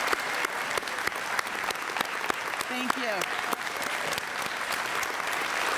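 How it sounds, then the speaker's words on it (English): Steady applause from an audience at a State of the City address fills the clip, sustained clapping with a few louder claps and a brief spoken thanks. "let's give them a round of applause"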